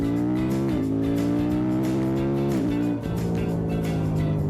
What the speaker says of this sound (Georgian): აი quick shifter-ი მუშაობს